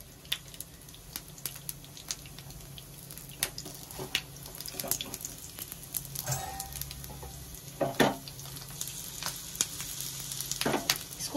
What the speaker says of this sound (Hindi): इसको सेकना ही आराम से बिल्कुल स्लो आंच पे सिकता है